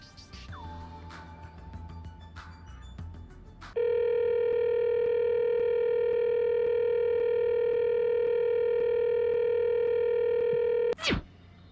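A telephone in the video game Danganronpa 2, the line to Grape House, gives a loud, steady electronic ringing tone that holds unbroken for about seven seconds and then cuts off, following a stretch of quiet game sounds.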